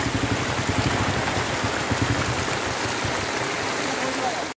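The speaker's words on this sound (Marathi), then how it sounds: "त्या रोडवरून हे पाणी येतं सगळं आणि हे पूर्ण बाजारपेठेत घुसल्यावर पूर्ण बाजारपेठेत रस्ताभर पाणीच पाणी होतं" Floodwater from heavy rain rushing through a market street, a loud, dense, unbroken wash of flowing water with a faint voice underneath, cutting off abruptly at the end.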